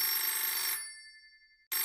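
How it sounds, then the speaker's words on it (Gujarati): A telephone ringing with a bright electronic trill that sounds once, cuts off, and then rings again right at the end, with no talking over it. "લો, તારો ફોન આવી ગયો."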